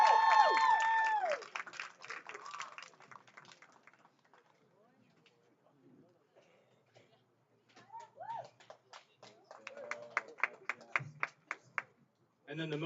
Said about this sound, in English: so you give him a round of applause for that.